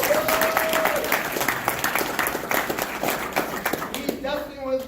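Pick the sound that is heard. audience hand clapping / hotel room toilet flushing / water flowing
audience hand clapping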